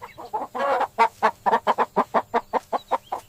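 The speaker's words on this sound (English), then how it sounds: "This is a rooster." A rooster on a farm calls in a rapid series of about a dozen loud, evenly spaced, clucking bursts, close by and with no talking.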